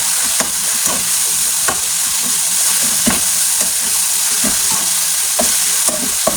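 Two eggs fry in a small pan with a loud, steady sizzle and spattering pops, punctuated by repeated scrapes of stirring, no voices.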